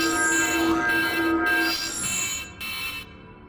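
An alarm sounds in the video game Wizard101, a steady electronic tone repeating in pulses with brief gaps, loud and close, fading slightly near the end before cutting off.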